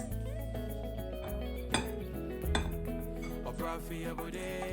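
Dry cake ingredients for a red velvet cake are stirred and sieved in a bowl, with repeated clinks and scrapes of utensils against the bowl, close and clear, with no talk.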